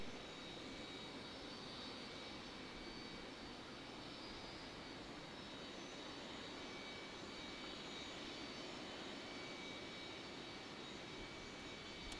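A Southwest Boeing 737-8 lands at Raleigh Durham airport, a faint, steady, broadband jet roar holding evenly for about twelve seconds from a distance.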